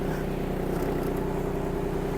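A Kubota T-240 Japanese mini tractor's engine idles while warming up, a steady, even low drone running close and unbroken.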